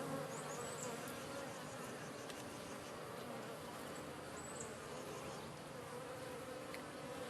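Honeybees buzzing around their hive in a dense, steady swarm drone that holds without pause, close and continuous, with a few sharper passes of single bees flying near.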